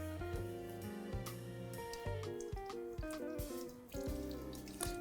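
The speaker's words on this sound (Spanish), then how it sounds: "El agua que estoy agregando es agua tibia" Warm water is poured into the water-bath pan around a classic New York cheesecake, a steady running splash with strong background music over it throughout.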